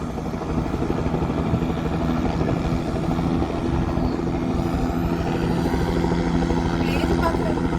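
A helicopter engine winds up for takeoff with a loud, steady rotor and turbine roar that holds constant over several seconds. A faint harmonic whine rides on top, and people can be heard talking underneath.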